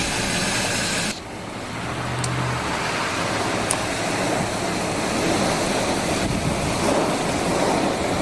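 Ocean surf roars steadily as Hurricane Milton approaches Florida, a broad wash of crashing waves mixed with gusty wind buffeting the microphone.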